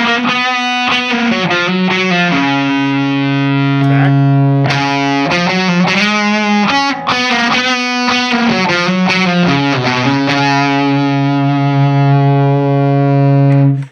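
Electric guitar played through a Silktone Overdrive+ pedal set to symmetrical clipping, giving a smooth, sustained distorted tone with a run of chords and notes that rings out steadily and loud for the whole passage, no talking.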